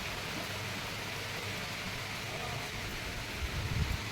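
Steady rain falls in a continuous, even hiss, heard from indoors or a balcony. There is a faint low rumble near the end.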